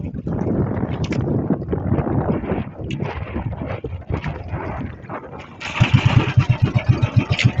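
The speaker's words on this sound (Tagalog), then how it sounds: "Uwi na kami. Mahangin na." Gusty wind at sea during a storm buffets the microphone in a low rumble, joined by a pulsing motor-like throb near the end.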